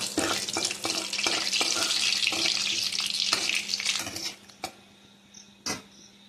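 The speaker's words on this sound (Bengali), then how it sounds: "এবার এই তেলের ভিতর দেবো দুটো লঙ্কা, একটা তেজপাতা দিয়ে একটু নাড়াচাড়া করে নেব" Two green chilies and a bay leaf fry in hot oil as they are stirred, making a dense crackling sizzle with scattered pops and clicks. The sound thins out into a few isolated ticks toward the end.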